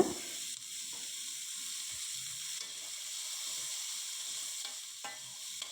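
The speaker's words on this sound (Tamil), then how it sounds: "கேரட்டு, பச்சை பட்டாணி, காலிஃப்ளவர் அப்படியே சேர்த்துருங்க." Carrot, green peas and cauliflower sauté in hot oil for a white vegetable kurma, with a continuous soft sizzle and occasional faint stirring scrapes, no talking.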